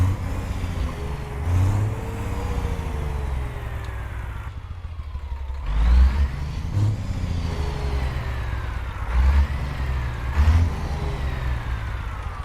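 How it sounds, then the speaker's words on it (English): A custom Freightliner XL Classic truck engine in American Truck Simulator runs steadily, rising and falling in pitch as it revs through several pulls, loud and close with no talk over it. "So let's see what our engine sounds are volume wise."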